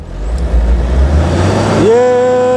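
A Tata 407 SFC BS4 pickup diesel engine rumbles loudly and close, its pitch rising as the accelerator is pressed fully down, then settling into a sustained high hum.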